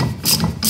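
Abrasive rubbing on a brake caliper's powder-coated bolt mounting surface, stripping the coating back to bare metal on an Abarth, heard as a few close, raspy scraping strokes in quick succession.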